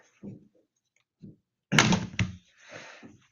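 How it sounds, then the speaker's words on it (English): Keyboard of an Asus C202 Chromebook being pried up during a teardown, a few soft plastic taps followed by a sharp cracking snap and rustle as the panel pops loose, close and otherwise quiet. "And keyboard comes up."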